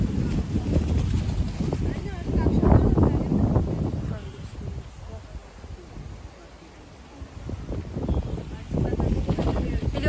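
Steady gusty wind rumbles against the microphone at an outdoor picnic, swelling and easing in loud bursts throughout.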